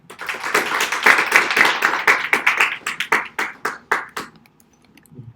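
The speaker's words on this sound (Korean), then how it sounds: "큰 박수로 맞으시기 바랍니다." Applause from an audience at a Korean security talk, welcoming the presenter of a basic web hacking session; dense clapping for about four seconds, thinning into a few last claps before quiet.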